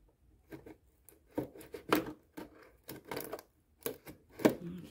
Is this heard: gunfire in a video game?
no